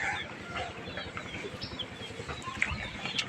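Farm chickens on a cattle and poultry farm cluck and call in overlapping bursts, a steady busy flock sound close by with a few sharper calls standing out.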